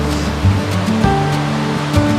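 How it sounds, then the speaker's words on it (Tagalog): Strong ocean waves crash and surge where a waterfall's stream pours into the sea, a loud continuous roar of surf and rushing water with periodic heavier swells. "Hinahampas tayo ng malalakas na alon mula sa karagatan"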